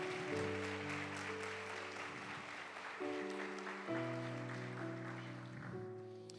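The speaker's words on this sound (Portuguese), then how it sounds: "Se eu fosse você, aplaudia Ele" A church congregation applauds at a Sunday service, a steady wash of clapping under sustained keyboard or organ chords that shift a few times, without pause throughout.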